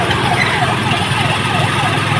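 An ambulance siren wails up and down on the road nearby, loud and continuous, mixed with traffic noise.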